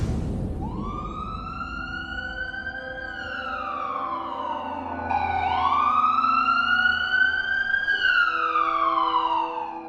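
A loud wailing ambulance siren sweeping up and down continuously, close by and alone.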